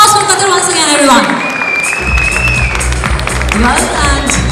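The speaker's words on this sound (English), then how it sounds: "A big round of applause for Qatar once again, everyone." An audience at a corporate FIFA 2022 welcome event breaks into sustained applause and clapping, with a voice talking over the start before the crowd noise takes over.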